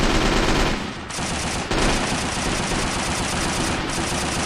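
Sustained machine gun fire in the World War II strategy game Men of War: Assault Squad 2, set on a 1939 Finnish defensive line: dense, continuous rattling bursts with a brief dip in volume, loud and close throughout, no voices.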